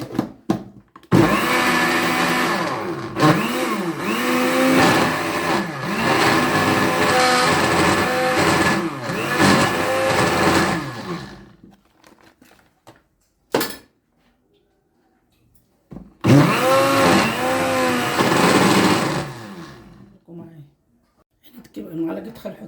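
Electric blender whipping homemade farm-style butter from cream, a loud close motor roar running about ten seconds with wavering pitch, stopping, then a brief burst and a second run of several seconds, with quiet gaps between.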